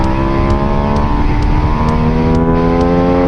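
A Buell Super Cruiser motorcycle with 175 horsepower accelerates in first gear on a road near Sturgis, its engine note loud, close and continuous with steady revving harmonics throughout.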